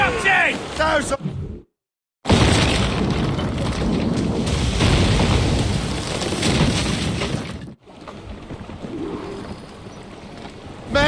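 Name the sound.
ship cannon fire in Assassin's Creed Rogue video game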